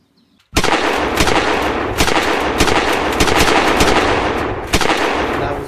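Sustained gunfire from guards shooting into a crowd on Bloody Sunday in Russia in 1905, a dense, loud, continuous barrage with heavy sharp reports punching through, starting abruptly after a brief quiet moment.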